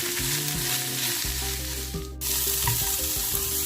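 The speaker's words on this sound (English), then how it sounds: "stir fry your tofu" Tofu stir-fried in a hot pan, loud continuous sizzling with scraping stirs of a utensil, close and steady, no voices.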